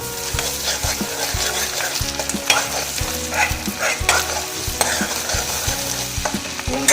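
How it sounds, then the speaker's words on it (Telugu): Onions, curry leaves and ginger paste fry in a pan for an egg chilli snack, a loud continuous sizzle broken by regular scraping strokes of a spoon stirring the mix, close up. "బాగా కలిపేసుకోండి."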